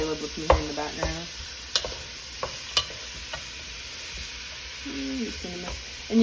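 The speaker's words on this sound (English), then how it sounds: "Alright, mix all that around." Chili with peppers stirred in a pot, with a steady sizzle under scattered clanks of the spoon against the pot, plus a few faint tonal sounds in the background.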